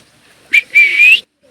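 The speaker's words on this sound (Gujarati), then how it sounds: "અહીંયા કબૂતરા છે" A short whistling bird call sounds near and clear, one brief note followed by a longer sustained one, from pigeons at the Salangpur temple gaushala.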